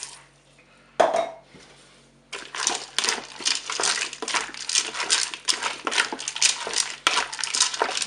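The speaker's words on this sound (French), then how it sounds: "Maintenant, je vais verser mon bouillon." Broth pours into a Cookeo multicooker pot with a close, splashing, watery rush after a brief clink, running steadily for several seconds.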